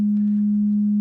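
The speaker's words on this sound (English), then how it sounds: "We have a basic patch, sine wave, envelope generator, VCA, and we're listening to that." A steady, pure sine wave note from a Zeroscillator modular oscillator patched through an envelope generator and VCA, holding one unwavering pitch at even loudness for about a second with no other sound.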